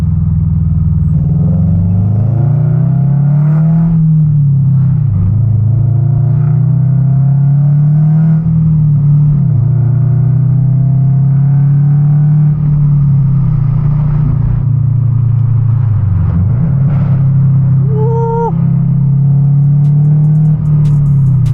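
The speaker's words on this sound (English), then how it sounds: "you get that deep subaru rumble, and when you get on it, it starts screaming" A Subaru BRZ fitted with UEL headers drives past with a loud, deep exhaust rumble that holds steady, then dips and swells as the revs shift. No voices are heard.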